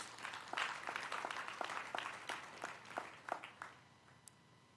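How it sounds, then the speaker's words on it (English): Scattered audience applause at a National Taxi Alliance elective conference, a thin round of individual claps fading out over a few seconds, fairly quiet and distant in a large hall. "Please, let's give them a round of applause"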